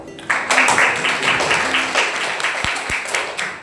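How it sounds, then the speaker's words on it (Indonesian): Clapping in a classroom during an integer lesson, a dense burst of many hands applauding for a few seconds, fairly loud and steady, with a couple of sharper knocks near the end. "Oke, tepuk tangan untuk."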